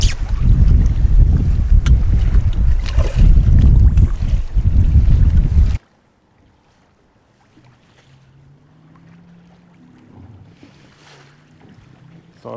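Strong wind buffets a fishing boat out on open water during perch fishing, a loud steady rush for the first half, then it cuts off abruptly into quiet low rumbling and faint movement.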